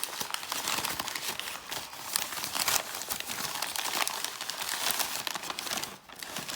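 A plastic bag holding a DL35-RA smoke muffler for an RC gas engine is opened, giving steady close crinkling and rustling throughout, dense and continuous with brief dips.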